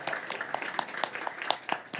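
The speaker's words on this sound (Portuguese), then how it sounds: "Uma salva de palmas a todos vocês" An audience at a conference session on hydrogen and energy storage regulation applauds, with clear, evenly spaced claps in a steady rhythm, moderately close and fairly loud.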